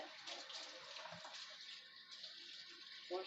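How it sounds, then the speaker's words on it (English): Water runs steadily from a kitchen sink faucet while hands are washed, a continuous close hiss lasting throughout with small splashes and no talking. "Wash my hands."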